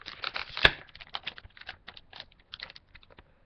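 Tape being peeled off a Qui-Gon Jinn action figure box, heard as a run of close, crisp crackles and ticks with one sharp louder snap early on, nothing else in the background.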